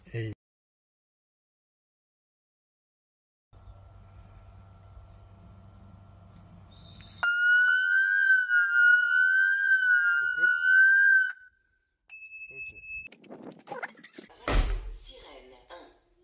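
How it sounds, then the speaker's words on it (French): An outdoor Diagral home alarm siren, triggered by its radio tamper protection, blares a loud, warbling electronic tone for about four seconds after a low hum. Clicks and thumps follow when it stops. "Voilà, c'est la sirène numéro 1, c'est l'autoprotection radio."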